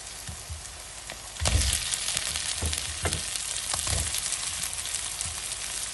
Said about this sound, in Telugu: ఇలా వేగినప్పుడు నేను ఇందాక రెడీ చేసుకున్న మీట్ బాల్స్ వేస్తున్నాను చూడండి.